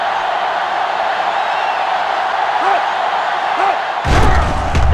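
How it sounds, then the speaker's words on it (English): Stadium crowd in the NCAA 06 football video game at South Carolina roars as a constant loud wash, then a heavy thump and a burst of louder noise near the end. "They're really struggling now as this crowd is going absolutely insane."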